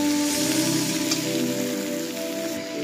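Potatoes cooking in a pan for a potato and eel fish dish, a steady soft sizzle and hiss of frying that continues evenly throughout with a faint hum, no talking.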